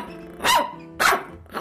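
A cartoon puppy in a Team Fortress 2 animation gives two sharp, close barks about half a second apart, clear and alone with no talking.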